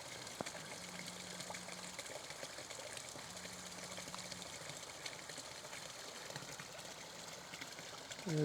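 Steady water flowing outdoors, a soft continuous rush with a low hum underneath, constant and moderately distant.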